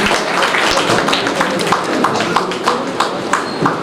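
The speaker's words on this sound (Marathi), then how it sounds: "एकदा टाळ्या" Lively applause from an audience at a prize-distribution ceremony, many hands clapping in dense, uneven rhythm, steady and fairly close for the whole stretch.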